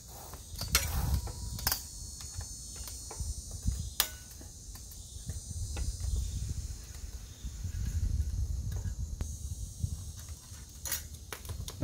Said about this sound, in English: So to change this chain ring, there are just 4 bolts here.